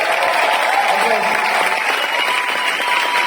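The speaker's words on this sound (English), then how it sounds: "So if you could give them a big round of applause." Steady applause from an audience at a Metallica event with Kirk and Rob in Madrid fills the whole stretch, dense and continuous, with a voice talking over it.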